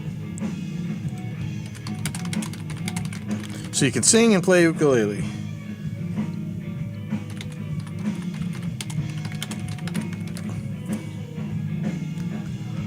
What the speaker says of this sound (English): I'm typing in the wrong place